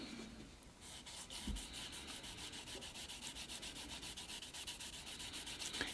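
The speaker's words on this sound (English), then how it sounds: "see how the wet sanding goes." Steady back-and-forth wet sanding of a 3D-printed bonsai pot with soaked sandpaper, a rhythmic gritty swish repeating evenly for several seconds, close and moderately quiet.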